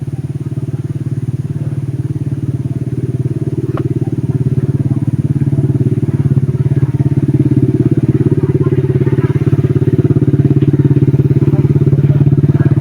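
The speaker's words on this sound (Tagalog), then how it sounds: "Yan, may motor tol." A motorcycle engine runs steadily nearby, a loud continuous low drone that grows slightly stronger over the clip, with faint clattering and a brief thump on top.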